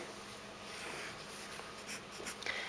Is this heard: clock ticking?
no